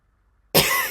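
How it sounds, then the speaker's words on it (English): A single loud cough from a person with allergies, bursting abruptly out of near silence and ringing on briefly, close to the microphone. "Sorry for the coughing. Allergies got me."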